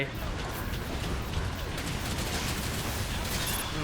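Rapid mobile suit gunfire from the Gundam Evolution video game, a dense, continuous barrage of automatic shots close up, steady and loud throughout with no pauses.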